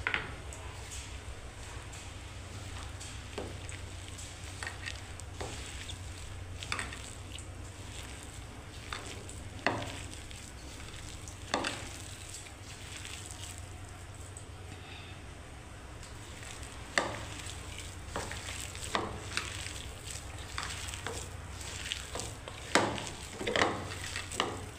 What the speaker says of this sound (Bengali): এবারে কোপ্তা কারির জন্য আমি এরকম করে ভেজে নিচ্ছি